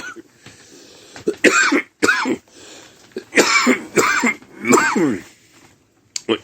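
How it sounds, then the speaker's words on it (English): Several harsh, forceful coughs in quick bursts, close and loud, mixed with rasping throat clearing. "I hate when you cough so hard, you cough yourself into a headache."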